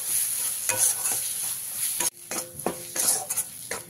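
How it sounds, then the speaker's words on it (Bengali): Kashmiri chilli powder and another ground spice are stirred into bata fish curry with potato and brinjal in a pan, with repeated scraping spatula strokes over a bright, steady sizzle. "দিয়ে খুব ভালো করে আবারও মিশিয়ে দিতে হবে"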